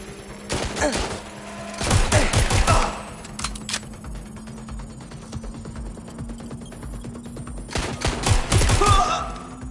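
Video game gunfire from Watch Dogs Legion: dense bursts of rapid shots crackle close by near the start and again near the end, with scattered single pops and a low steady hum between them.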